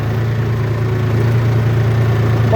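A New Holland TT3.50 tractor engine runs at a steady, close, throbbing drone without clear rises in pitch, heard alone with no talk.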